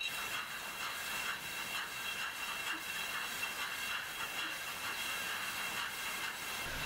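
A rinser on a wine bottling line blows air into bottles through a nozzle, making a steady, close pneumatic hiss. Faint rhythmic pulses run under the hiss from the machinery and conveyor, and no voices are heard.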